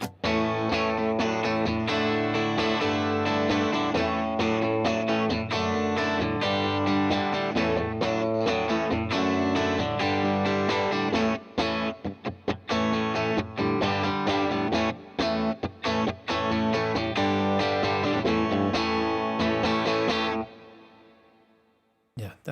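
An electric guitar plays through an amp with heavy reverb and distortion. It is a dense, continuous, loud wash of chords and notes that stays up close for about twenty seconds, then fades away into a trailing reverb tail.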